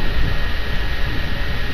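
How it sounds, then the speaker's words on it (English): A video game airplane drones overhead, a loud, steady engine roar that fills the whole short stretch without talk. "What is that noise? It sounds oddly like a plane"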